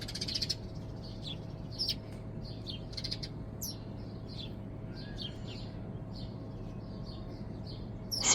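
Small sparrows chirp in brief, scattered tweets and short trills at a moderate distance, repeating irregularly over a steady low background hum.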